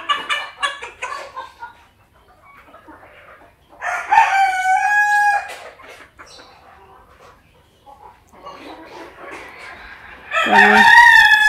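A Fayoumi rooster crows loudly and close by, two drawn-out calls set among softer clucking from the laying hens, with quiet stretches between them.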